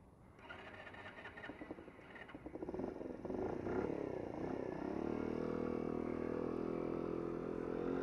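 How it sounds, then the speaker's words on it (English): A Honda Dax motorcycle engine runs close by, starting as a steady idle and swelling into a louder, rougher drone that holds continuously to the end, with no talking. "I have a little bit of a problem with getting this bike into neutral."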